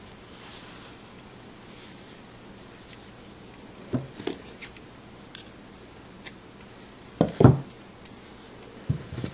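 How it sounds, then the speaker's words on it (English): Scissors snip thread on a handmade napkin ring, a few sharp close clicks and crunches scattered across a mostly quiet background. "I actually can cut this even more, so I don't have to see the thread."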